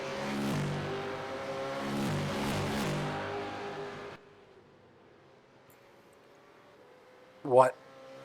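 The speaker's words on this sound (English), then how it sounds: "What awesome sounding race cars." Sebring supercars in a racing simulator roar past loudly for several seconds, then fade to a low distant hum, with a brief engine burst near the end.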